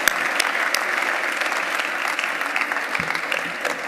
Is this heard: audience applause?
yes